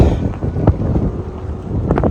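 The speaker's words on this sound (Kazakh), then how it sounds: "Жел болып тұр еще дала." Strong outdoor wind buffets the microphone in continuous low gusts, loud and close, with no voices over it.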